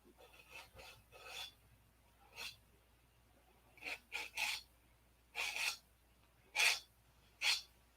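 Sandpaper rasps against a model P-47 airplane in irregular short strokes, close and moderately loud, some quick bursts and some longer rubs, with no one speaking.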